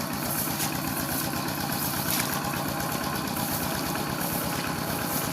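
A tractor engine drones continuously while ploughing a rice paddy during village planting season, a loud, unbroken rumble with no voices.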